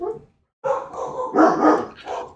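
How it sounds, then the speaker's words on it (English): A dog gives a few soft, whimpering woofs close by after waking, a short broken series of muffled barks and whines, with no talking over them. "when he wakes up, he gets the sad barks, like he doesn't know what's going on"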